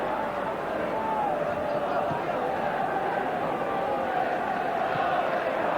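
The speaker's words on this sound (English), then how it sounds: "Rangers to kick off with a huge crowd backing them up." A huge football crowd at Ibrox for Rangers v Dundee United, a 1983 Scottish Premier Division match on a bitingly cold afternoon, gives off a steady, dense roar of massed voices that holds even and loud throughout.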